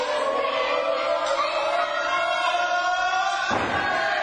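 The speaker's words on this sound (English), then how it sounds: "Oh, you can hear the reaction from this crowd." A wrestling show crowd roars and chants steadily around the ring in a sustained, far-reaching wall of voices, broken near the end by a heavy thud.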